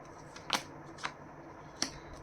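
Tarot cards are handled and drawn for a reading: a few quick, crisp card flicks and slaps stand out at close range over a quiet room.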